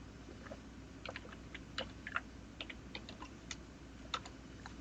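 Typing on a computer keyboard while entering a line of Python code: scattered quick key clicks with irregular rhythm, close and moderately quiet over a steady low room hum, no voices.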